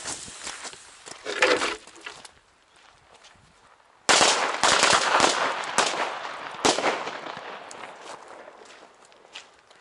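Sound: chain of firecrackers exploding, Funke firecracker chain

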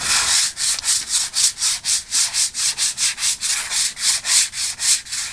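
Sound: sanding with sanding pad

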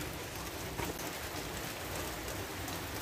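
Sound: rain falling

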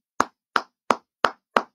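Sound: applause, clapping

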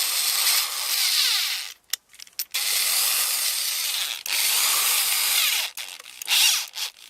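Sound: Zenit ZSh 550 corded screwdriver driving screws

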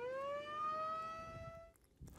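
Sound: ranch siren sounding to call horses

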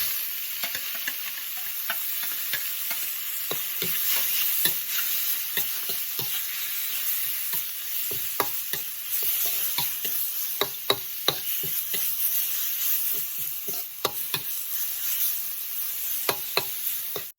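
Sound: stir-frying northern Thai beef sa in an oiled pan

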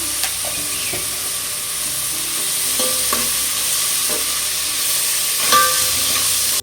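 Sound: onions frying and stirred in pan

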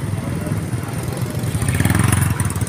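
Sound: motorcycle engine struggling to move

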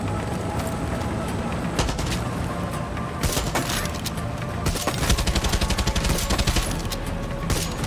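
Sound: gun firing in bursts, from video game Far Cry 6

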